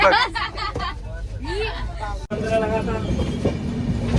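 Rumbling interior of a moving passenger train with steady rattling and clatter, with people talking and calling out nearby throughout.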